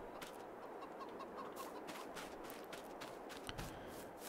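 Chickens in the farming video game Farming Simulator 22 cluck faintly and intermittently over a quiet background hum.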